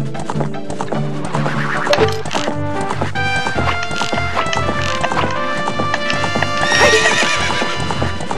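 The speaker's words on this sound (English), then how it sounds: "what the fuck is wrong with this horse?" A horse gallops with rapid, rhythmic clip-clop hooves and lets out loud whinnies in Zelda Ocarina of Time, over a bright game music backdrop, close and prominent throughout.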